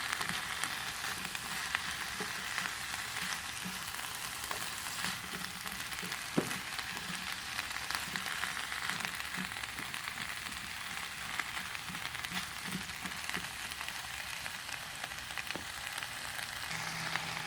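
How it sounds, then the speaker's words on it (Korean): Vegetables stir-frying in a crowded pan for Korean jeyuk-bokkeum, a steady broadband sizzle and crackle that runs without a break, with faint scrapes and stirring clicks scattered through it and no voices. "야채를 익히고 있는데"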